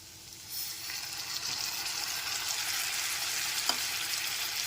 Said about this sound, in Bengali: টমেটো বাটাটাও খুব ভালো মতো একবার মিশিয়ে নিতে হবে